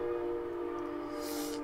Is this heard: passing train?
yes